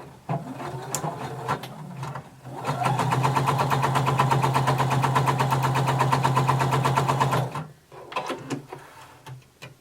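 A sewing machine stitches a row of gathering stitches on a sleeve cap, a steady rapid mechanical hum lasting about five seconds, framed by clicks and handling noises before and after.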